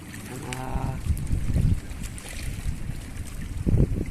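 Strong wind gusts by a river where crabs are being caught, buffeting the microphone with a constant low roar, while water laps and washes around a small boat.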